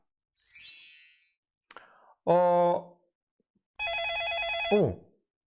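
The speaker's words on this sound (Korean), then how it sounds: "준이가 전화 통화를 하고 있어요" A telephone rings in short electronic bursts, a tonal warbling ring heard twice with brief clicks and noise before it, close and clear with no talk over it.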